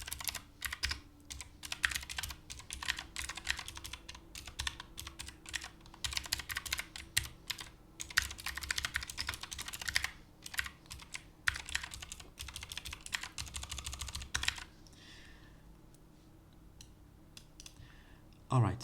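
Rapid, continuous typing of C code on a computer keyboard, dense clicking keystrokes close to the microphone for about fifteen seconds before tapering into quieter pauses.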